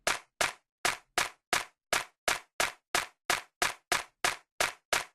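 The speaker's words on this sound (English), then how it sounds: "So let's add the first clap and the second clap together." Two clap samples layered and triggered together repeat as a dry, sharp, evenly spaced train of about fourteen hits, each alone with silence between.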